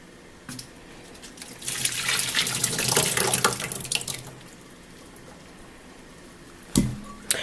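Cold tap water running over tapioca pearls in a colander at a sink, a steady close splashing rush that swells and fades over several seconds, ending with a couple of knocks.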